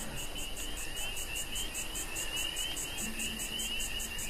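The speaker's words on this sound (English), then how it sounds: "Sounds of the cicada echoing in the background." Cicadas in the video game Fallout 76 make a steady, pulsing high-pitched buzz that runs continuously in the background of an outdoor scene, fairly faint and unbroken by speech.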